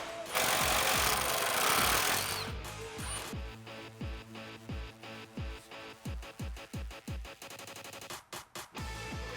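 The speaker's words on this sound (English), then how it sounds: "we can remove our sway bar links with an 18mm wrench and a 15mm socket" Wrench and socket work on the sway bar links of a Jeep Wrangler TJ, with a burst of harsh noise followed by a run of rapid, regular metallic ratcheting clicks close by, alone.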